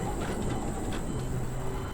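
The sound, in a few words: tram running in the video game Abiotic Factor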